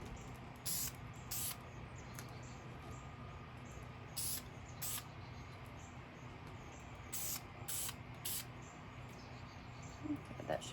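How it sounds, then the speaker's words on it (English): Yellow spray paint is spritzed lightly onto a glass pumpkin in several short, faint hissing bursts, in pairs and small groups, over a quiet room hum. "Just lightly spritz it with some yellow."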